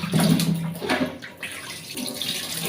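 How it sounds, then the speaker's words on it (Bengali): Cut potato pieces being rinsed in water for a duck meat and potato curry, a steady near splashing and sloshing with occasional bumps, heard alone. "এখন এই আলুগুলো আমি একটু ধুয়ে নিচ্ছি"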